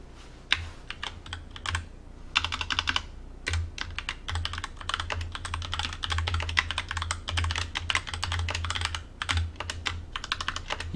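Fingers type briskly on a computer keyboard, keys clattering in a continuous uneven patter for about eleven seconds, with a low steady hum underneath and no one speaking.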